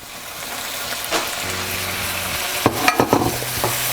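Spices sizzle and fry in a pan for aloo qeema, a steady close crackle broken by a few sharper stirring clatters near the end, with no talking.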